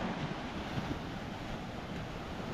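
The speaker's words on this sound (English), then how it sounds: "And we have also waves." Ocean waves rolling onto Kata Beach in Phuket, a surfing area, with a steady broadband wash of surf and wind buffeting the microphone throughout, loud and continuous with no voices.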